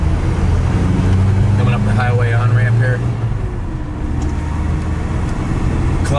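A 1987 Toyota standard pickup truck engine cruising in fourth gear at highway speed up a ramp, a loud steady drone with road and wind noise filling the cab while someone talks over it.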